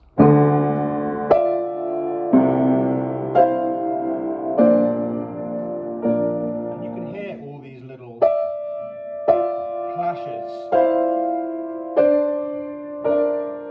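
Piano plays a slow, dramatic sequence of heavy sustained chords from the opening of Carmina Burana, each struck firmly and left ringing, building tension with no voices.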